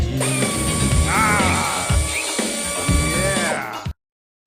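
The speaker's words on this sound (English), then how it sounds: "now use the power drill" A power drill whirs loudly and steadily for about four seconds, its pitch rising and dipping with load amid clanks and rattles, then cuts off abruptly into silence.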